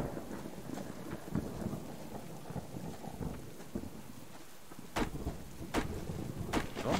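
Heavy rain in the survival game Subsistence during a thunderstorm, a steady hiss of downpour with sharp thunder cracks near the end, no voices.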